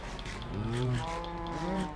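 Minecraft cows in an automatic farm give a couple of overlapping low moos, close and clear over a faint background hum.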